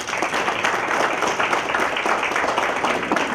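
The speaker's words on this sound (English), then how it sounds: "Can we greet this beautiful, beautiful morning with a big, big round of applause?" A large audience at the South India Media Summit in Kochi breaks into a big round of applause, a dense, steady wash of many hands clapping at even loudness throughout, with no gaps or voices standing out.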